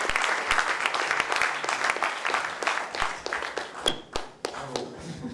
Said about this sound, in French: qui est Luc Long, que je vous demande d'applaudir